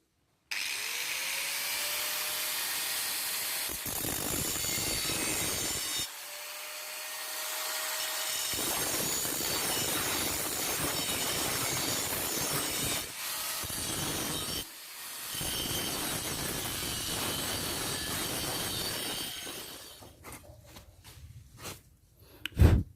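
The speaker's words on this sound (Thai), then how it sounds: "เดี๋ยวไปตัดตัวนี้ให้มันได้แล้วก็ไปเจียตัวนี้ให้มันแหลมนะครับ" An angle grinder whines while cutting a metal bar, in several long harsh bursts separated by short pauses, ending with a few clanks and knocks.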